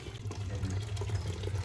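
Water draining from a Burnham steam boiler during cleaning of a clogged pigtail, a steady close rushing and trickling flow with no talking.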